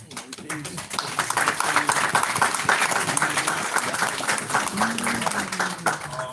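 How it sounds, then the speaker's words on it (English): Audience at a community meeting in Orange, New Jersey, claps for the council, moderately loud and sustained, with voices talking and calling out over the applause. "Please give a round of applause to our council"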